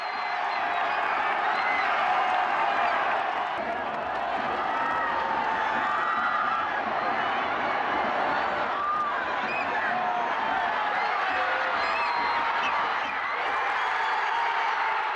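Football stadium crowd at a K League match cheering and applauding: a sustained, roaring wall of voices and clapping, with shouts and whoops rising over the continuous din throughout.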